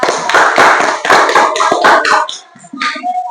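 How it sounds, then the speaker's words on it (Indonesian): A classroom group claps for another group of students, giving a burst of close, loud applause that thins into a few scattered claps. "beri hapus tepuk tangan untuk kelompok 2"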